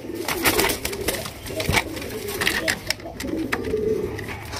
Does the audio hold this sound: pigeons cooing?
yes